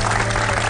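Studio audience applause on a televised Indonesian quiz show, a brief, steady, loud burst of many hands clapping together.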